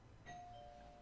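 A single doorbell chime rings out faintly in a quiet room, its clear tone sustaining and slowly fading, with no talking.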